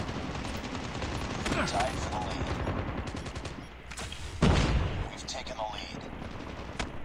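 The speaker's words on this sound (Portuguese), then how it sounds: "Ui, tô tomando tiro da onde, mano?" Rapid bursts of automatic gunfire crackle steadily in Call of Duty Mobile, with a louder, heavier volley near the middle and sharp single shots near the end, under someone talking.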